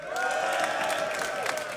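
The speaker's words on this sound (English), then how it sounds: "give a cheer for Inca" Spectators at a DreamHack SteelSeries StarCraft tournament cheer and whoop for a player, a steady roar of crowd noise with scattered clapping filling the whole moment.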